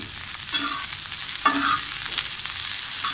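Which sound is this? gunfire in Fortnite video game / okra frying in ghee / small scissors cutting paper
okra frying in ghee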